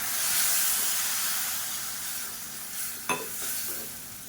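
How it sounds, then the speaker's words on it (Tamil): Tomatoes sizzle and hiss steadily in a hot pan with a little water, with a soft stir and a brief clink of a utensil partway through, while making coconut milk curry. "சேர்த்துட்டு நல்லா வதக்கி விட்டுக்கலாம்."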